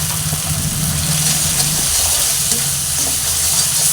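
Spice masala frying and being stirred in a pan with a splash of water, salt and turmeric for a rohu fish and potato curry, a steady close sizzle with scraping stirs throughout.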